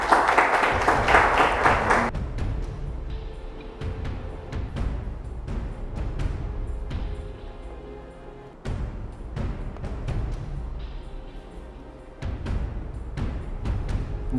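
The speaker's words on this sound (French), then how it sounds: "Super, on applaudit." A short burst of dense applause from a studio audience at a cooking competition lasts about two seconds, then gives way to quieter room sounds.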